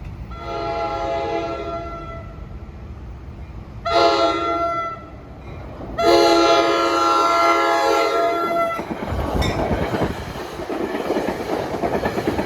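A New Jersey Transit train heading to Hoboken passes with its horn blaring in several long sustained blasts, followed by the rumble and clatter of the cars rolling by.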